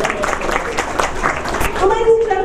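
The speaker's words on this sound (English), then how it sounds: "And another big round of applause for Brenna." Applause from an outdoor crowd at an Epcot theme park show, a steady patter of clapping with voices mixed in and a brief musical tone near the end.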